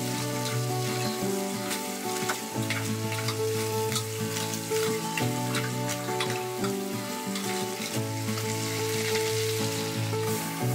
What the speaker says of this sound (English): Frying the lobster shell in ghee like this makes the most of the lobster flavour